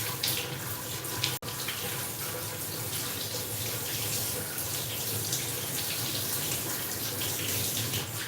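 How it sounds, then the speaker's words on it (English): Running water from a faucet rinses dirty water off a doodle dog during a bath, a steady broadband gush that holds for the whole stretch with one brief cut near the start. "you'll see like dark water rinsing off of him"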